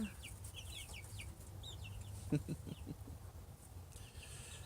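Backyard chickens climbing up a perch, giving soft clucks and brief chirpy calls nearby against a low steady background hum, with a short burst of clucking midway.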